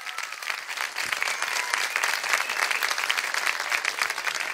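An audience at a Turkish poetry and music gathering breaks into dense, sustained applause, many hands clapping steadily at even volume throughout, with little else audible.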